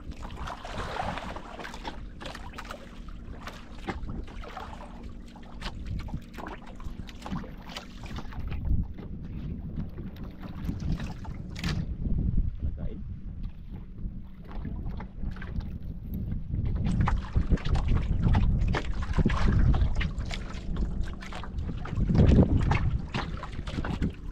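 Small boat, likely a Filipino bangka with an engine whose crankcase leaks oil, heard as a continuous low motor rumble with water sloshing and wind buffeting the microphone, rising somewhat louder toward the end.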